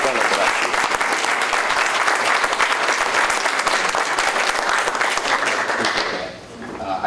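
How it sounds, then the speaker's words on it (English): A board meeting audience applauds Mr. English with a sustained round of dense clapping that fades briefly near the end, with speech mixed in. "I just wanted to give Mr. English a round of applause for a job well done over the last year"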